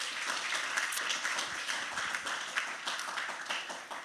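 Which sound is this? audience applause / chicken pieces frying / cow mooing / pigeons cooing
audience applause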